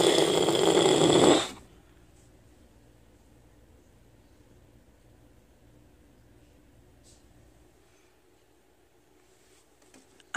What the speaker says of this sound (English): That's a really loud snore.